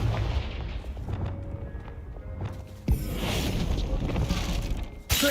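Spell blasts from the Confringo fire spell in Hogwarts Legacy, heard as repeated booming impacts among combat noise, with a loud burst near the middle and another sharp hit near the end.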